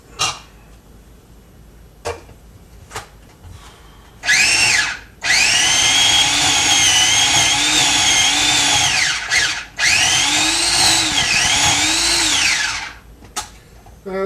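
A blender whirs loudly in two long bursts with a brief pause between them, its motor pitch wavering, after a few quiet knocks.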